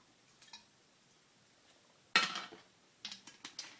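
Raw chili ingredients get mixed in a bowl: a sharp utensil clatter against the bowl, then a quick run of lighter clinks and scrapes, close up with no talking.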